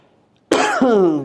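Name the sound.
cough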